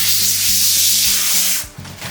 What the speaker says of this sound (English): take our humidity shield and peel off the plastic